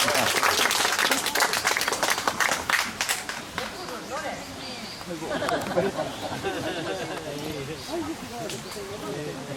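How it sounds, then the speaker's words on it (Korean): An audience at a poetry recitation contest applauds strongly for about four seconds. The clapping then thins out as a voice begins speaking over the fading crowd noise. "예, 박수."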